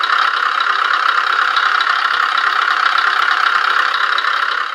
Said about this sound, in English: the engine sound will start.